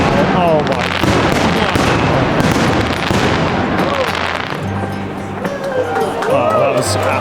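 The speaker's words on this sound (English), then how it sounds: "every winter it has what must be one of the best fireworks displays in the world" A big winter fireworks display in Copenhagen fills the air with dense, continuous crackling and booming, loud and close. An excited crowd cheers and talks over it throughout.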